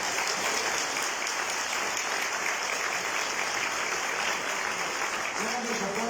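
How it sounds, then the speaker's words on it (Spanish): Applause from an audience at a book presentation for an author's work on sexual offences, a dense steady patter of clapping that fills the whole stretch without pause. "Grandes aplausos para el autor de la obra de este oficial"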